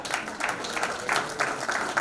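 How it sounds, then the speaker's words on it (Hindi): An audience applauds nursing and paramedical institutes being honored with certificates in Lucknow, a steady crowd clapping of moderate loudness with slight surges, continuous throughout with no talk heard. "जोरदार तालियां"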